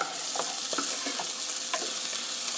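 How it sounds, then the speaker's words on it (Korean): Stir-fried zucchini being tossed with sesame oil in a pan, a soft steady sizzle broken by a few light scrapes of the utensil, brief and close. "참기름 또 고루 섞어서 불 꺼주시고요"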